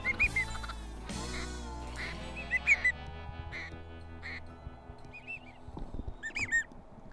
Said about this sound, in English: we had over 30 to 40 ducks in the air at one time